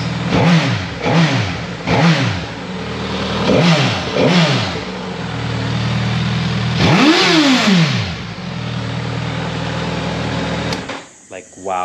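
A Suzuki GSX-S1000GT motorcycle engine revs close by in a series of sharp throttle blips, each rising and falling quickly, then one longer, higher rev before settling to a rumbling idle.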